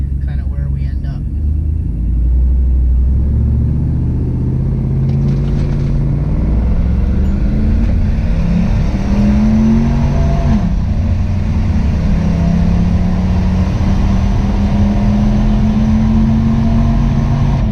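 A turbocharged LS-swapped Cadillac Escalade accelerates hard through the gears. A loud engine drone climbs in pitch, dips at a shift and climbs again over steady road rumble, with someone talking during part of the run.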